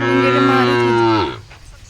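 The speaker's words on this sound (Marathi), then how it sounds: "ते बघा चाललंय गाई घरी" A single loud, close cow moo from Khillar cattle, deep and sustained, lasting over a second before fading away.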